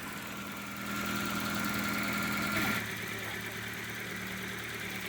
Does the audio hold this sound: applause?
no